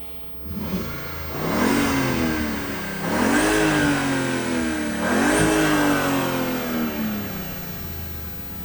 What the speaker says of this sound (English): Okay, I'll just give it a couple of revs.